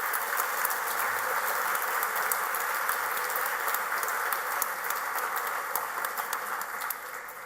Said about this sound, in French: Je pense qu'ils méritent une bonne main d'applaudissements.